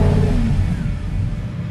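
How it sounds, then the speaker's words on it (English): Lamborghini Huracán engine catching and revving after a press of the start button, a loud, close low rumble that holds steady and then eases slightly, with no talking. "we have the new engine start button. But honestly speaking, what I like more is to push it"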